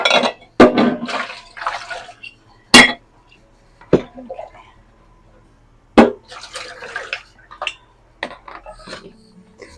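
Glass canning jars clink and knock sharply a few times as they are picked up and set down in a kitchen while preparing pepper soup, with quieter shuffling and handling noises between the louder hits.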